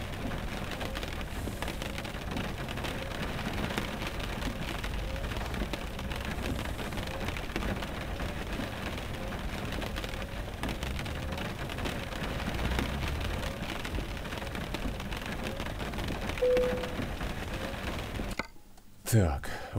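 Steady rain drums on a truck while driving in Euro Truck Simulator 2, a constant loud hiss and patter lasting throughout, with a voice talking over it before a brief drop near the end.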